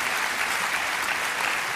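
A studio audience at the German game show Schlag den Raab claps loudly and steadily, a dense, continuous wash of applause that holds throughout, with no voices standing out.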